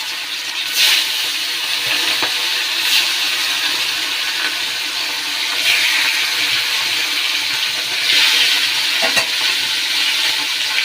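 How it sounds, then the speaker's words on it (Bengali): Fish sizzling in hot oil in a home kitchen, a continuous bright frying hiss with occasional louder spits and pops, steady and close throughout. "তেল গরম হয়ে গেছে, এবার মাছগুলি দিয়ে দেব।"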